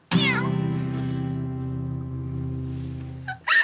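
A voice imitates a cat, drawing out one long nasal meow-like cry with steady harmonics, followed by a brief second vocal burst at the end.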